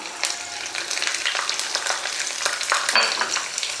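Spices fry in hot oil in a pan for Telangana-style pulihora, giving a close, steady sizzle with scattered sharp crackles and pops throughout.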